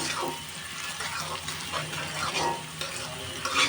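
Onion fries in oil with a close, steady sizzle and soft scraping as it is stirred.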